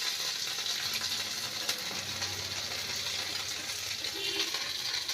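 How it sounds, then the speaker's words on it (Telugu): Spices tempering in hot oil for pongal, a steady close sizzle and crackle with faint stirring clinks, continuous for about five seconds with no talk. "పోపు వేసేసాను, మెత్తగా ఉడికిపోయింది."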